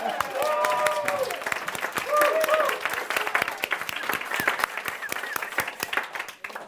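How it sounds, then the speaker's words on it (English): A crowd applauds with sharp, scattered claps that build and then thin toward the end, while voices talk and call out over the clapping. "Let's take a moment and applause."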